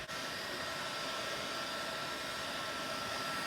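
A heat gun warms a blower belt guard during a supercharged postie bike build, blowing a steady, loud, unbroken rush of hot air from start to finish with no voices.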